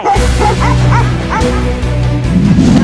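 Several dogs bark and yip in quick, loud bursts at a dog barking contest in Thailand, with whimpers mixed in and a crowd murmuring faintly behind.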